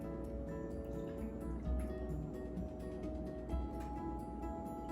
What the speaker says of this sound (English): Now I'm going to add the 3 cups of milk to my mixture